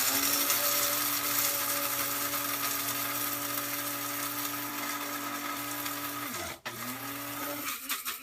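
A coffee grinder whirs steadily as beans are ground coarse for a French press, a loud continuous motorized drone with strong harmonic hum that dips and stops briefly near the end, then spins up again.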